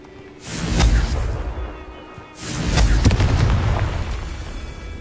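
Two heavy booming blasts from the Confringo fire spell in Hogwarts Legacy, each swelling and rolling out over a second or two, loud and close.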